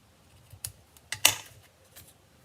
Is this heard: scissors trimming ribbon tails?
yes